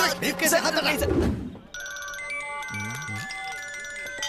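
A phone's electronic ringtone chimes repeatedly in a bright melodic pattern after a burst of talking and shuffling.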